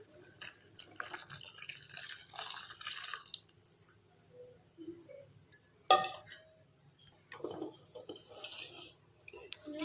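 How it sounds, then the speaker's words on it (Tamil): Milk is poured into a pot of cooked vermicelli kheer in a home kitchen, giving watery splashing and trickling in bursts, with clinks of metal utensils and pot between them, close and fairly quiet. "இப்போ நாம் இதில் அந்த மில்க் ஆட் பண்ணிடலாம்."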